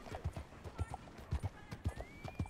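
Horse hooves clip-clop in a steady rhythmic gait while riding in Red Dead Redemption 2, fairly close and distinct, with a faint tonal background and an occasional whinny-like sound.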